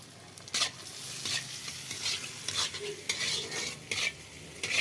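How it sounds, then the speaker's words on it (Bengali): Onion fries in a pan with whole garam masala for potato biryani, a soft constant sizzle broken by repeated sharp scraping strokes of a spoon stirring against the metal pan, close and alone. "এবার পেঁয়াজটা একটু লাল লাল করে ভেজে নেব"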